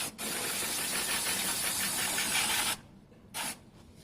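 Brake cleaner sprays onto a motorcycle in a strong, close, continuous hiss lasting nearly three seconds, then stops and returns as one short final burst.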